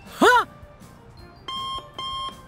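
An airport security scanner alarm beeps repeatedly, a quick chirp followed by two longer steady tones, clear and close in a quiet space.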